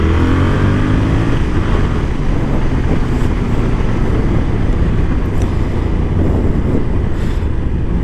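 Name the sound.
Yamaha Tracer 7 twin-cylinder motorcycle engine while riding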